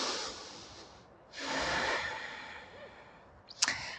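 Slow, audible breathing during standing yoga poses, a long soft exhale, a pause, then a fuller breath and a short sharp intake at the end, close and unaccompanied.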